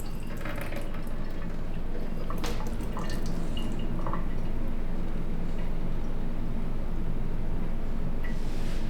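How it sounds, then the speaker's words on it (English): Excess water drains off cooked corn and onions in a kitchen, a continuous splashing trickle with scattered drips, close and steady for several seconds. "I just drain off the water, the excess water."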